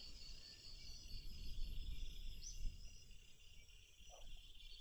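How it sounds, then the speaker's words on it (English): Crickets chirp steadily at night in the driving game The Long Drive, a continuous high trilling over low rumbling background noise, with no speech. "I hear crickets."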